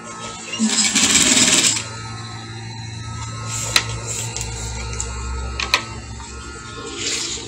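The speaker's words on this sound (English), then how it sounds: "so now i want to start with the stitching with a lock stitch lock it because it's a permanent stitch" A sewing machine runs a lock stitch along a box pleat skirt, a loud rapid burst at the start easing into a steady low hum, with occasional clicks and a faint voice in the background.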